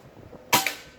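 A single sharp, muffled pop of a silenced Bocap Pajero Gen 5 PCP air rifle shot, close by, with a short ringing tail fading in quiet surroundings.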